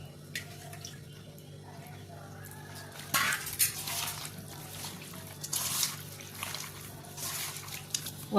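Cut chicken pieces for chicken 65 being washed in water in a kitchen vessel, with splashing and dripping among clattering knocks of pots and utensils, moderately close, irregular bursts over a steady background hum.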